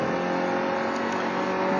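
A racing car in a video game on the OutlonPark circuit, its engine held at full throttle in a steady, sustained high-revving drone with little change in pitch, heard alone at moderate level.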